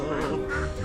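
A cartoon duck quacks in a short nasal burst, loud and close, with a faint music or ambience bed underneath and no speech.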